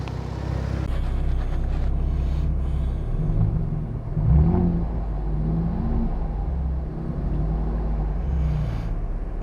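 A 2012 Chevrolet Camaro engine idles with a steady low rumble, then the throttle is blipped for a short rev around the middle before it settles back to idle, close and fairly loud with no talking.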